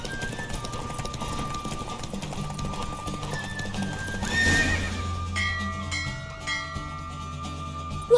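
Horse neighing and galloping hooves during a horse race in The Witcher 3 video game, a loud whinny in the middle over a steady clip-clop and background music.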